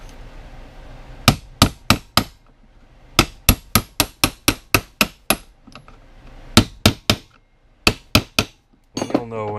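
Sharp metallic taps from a hammer driving a part into a Yamaha Viper fourth-wheel kit, delivered in quick bursts of four to six blows separated by short pauses, close and loud.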